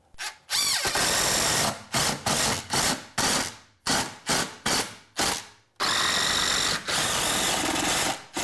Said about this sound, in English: I'll do one screw down into the sill, but I actually have a stud right here, so I'll actually do one into the stud